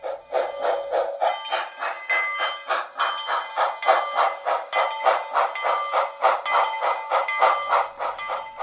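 A K-27 model locomotive's chuffing plays through a 3D-printed speaker baffle, a steady rhythmic steam exhaust beat with hissy texture, loud and continuous throughout.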